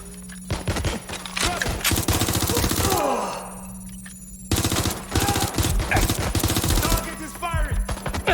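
Rapid automatic gunfire in the video game Watch Dogs Legion, loud sustained bursts with a brief lull in the middle and shouted voices mixed into the din.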